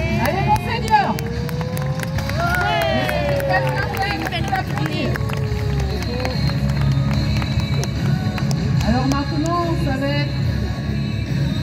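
Spectators at a medieval knights' tournament at Blandy applaud a quintain run, a steady patter of clapping and crowd murmur with voices talking over it.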